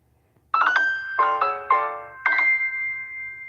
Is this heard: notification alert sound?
yes